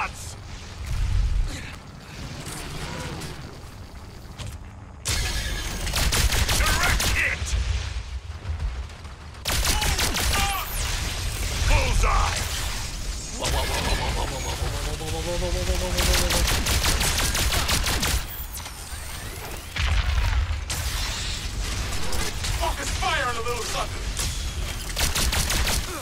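Sustained gunfire from squad weapons aimed at a goliath monster in the video game Evolve Stage 2, with dense rapid bursts and blasts running nearly throughout, mixed with creature roars and people talking over the shooting.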